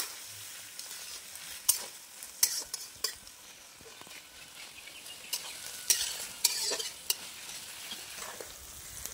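Chopped onion, chili and mutton fat fry gently in a pan, a soft steady sizzle broken by sharp clinks and scrapes of stirring at irregular intervals.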